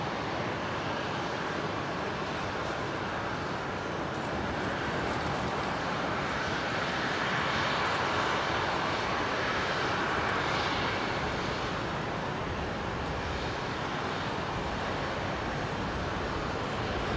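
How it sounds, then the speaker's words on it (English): A Qatar Airways Boeing 777 turns onto final approach at Brisbane International, heard as a steady, distant engine drone with wind-like noise and no talking. "look at the Qatari triple up there, turning onto final behind the Qantas 126"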